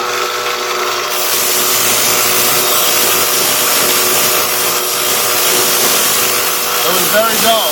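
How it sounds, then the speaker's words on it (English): Power grinder sharpening a dull AK47 bayonet, giving a loud, steady grinding whine that runs throughout without a break. "So I had to grind it to get it in."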